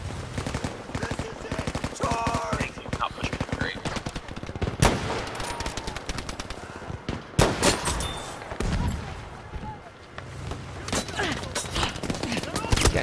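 Video game gunfire from a jungle carbine and a machine gun, with dense rapid bursts and sharp single shots over about thirteen seconds, loud and continuous, with a voice talking occasionally.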